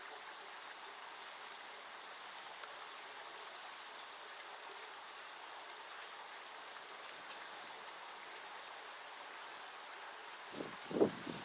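A steady, even rush of water flowing down into a drainage below fills the whole stretch, constant and moderately loud, with a couple of low knocks near the end.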